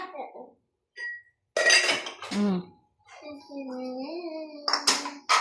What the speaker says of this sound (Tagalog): ikaw na ang maghuhugas ng plato